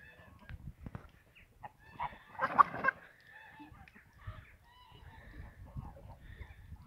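Quiet, scattered calls and honking clucks from a sick chicken in short irregular bursts, with one louder flurry in the middle, against faint rustling.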